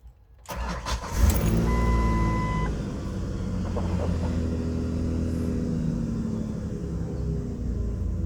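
A 1999 Nissan XE pickup truck engine cranks and fires up, then settles into a steady, close idle rumble that runs on alone for several seconds.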